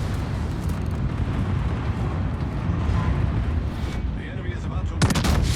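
Long-range secondary guns fire in a naval warship video game, a dense, continuous rumble of booming shots with sharper bursts layered in, loud and sustained throughout.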